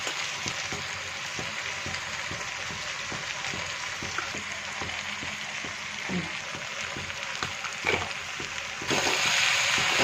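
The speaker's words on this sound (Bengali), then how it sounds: "আবারও নেড়ে চেড়ে নিচ্ছি" Mixed vegetables with turmeric, salt and cumin powder fry in a pan for a Bengali fish-head chorchori, a steady sizzle under rhythmic scraping and stirring strokes, growing louder near the end.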